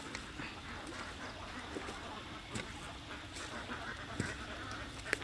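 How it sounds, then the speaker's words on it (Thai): Ducks quack in a busy flock as they are herded into a pen on a Thai duck farm, a steady close chorus of overlapping calls with a few sharper honks cutting through. "ต้อนเป็ดเข้าคอกกัน"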